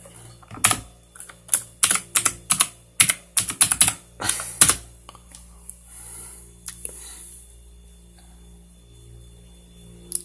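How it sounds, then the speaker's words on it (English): Quick bursts of typing on a computer keyboard, a dozen or so sharp close key clicks in uneven clusters over a low steady hum, then fading to near quiet with one last click. "You might hear my keyboard real quick."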